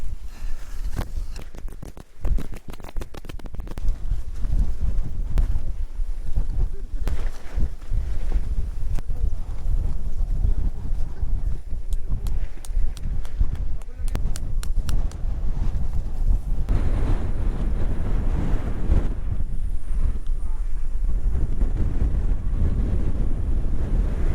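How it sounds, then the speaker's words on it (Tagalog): Strong wind buffets the microphone in continuous gusty roars, loud and close, with no voices, at a motorcycle campsite. "Malakas yung hangin eh."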